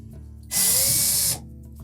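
A power drill spinning out a number 2 Phillips screw from a Samsung dryer panel, one loud close whine lasting under a second with a steady pitch before cutting off.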